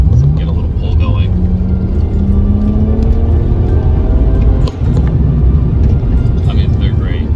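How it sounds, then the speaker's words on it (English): Hard acceleration in a car with a BMW N54 twin-turbo engine, a loud, steady engine roar climbing in pitch as it pulls through the revs, with a brief dip near the end, recorded from inside the car. "Let's get a little pull going."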